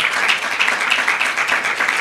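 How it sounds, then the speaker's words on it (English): At a communications mentorship conference and book launch, a crowd claps in a lively, loud, continuous burst, with individual claps rhythmically audible throughout. "Let the applause keep going"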